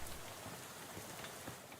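Steady rain pours in the video game Shadows Over Loathing, a dense, even hiss of drops on surfaces, soft and continuous without pauses.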